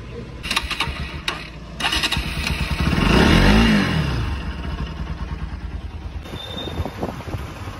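A motorcycle ridden along a road on a sunny day on its way to a full water wash, engine droning steadily with a swelling pass-by roar midway and wind buffeting throughout, no talking.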